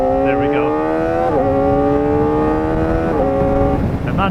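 A Kawasaki ZX4RR motorcycle engine screams at high revs while ridden on the road, holding a loud, steady whine that steps up through quick gear shifts, close and continuous with wind rush beneath.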